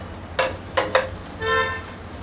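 Taco shells frying in a pan until crispy, with a few short bursts of close sizzling and crackling followed by a softer, steadier sizzle over a low background hum.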